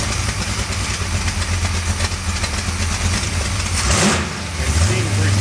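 A car engine that has just been tuned idles with a steady nearby rumble, then gives a brief rev near the end before settling back to idle.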